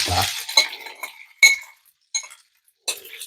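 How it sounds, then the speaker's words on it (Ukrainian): Macaroni being stirred in a pan as it fries in rendered pork fat, heard as a few sharp utensil clinks and scrapes against the pan separated by quiet gaps, close and unaccompanied by talk. "І ми додаємо до цього сала макарони."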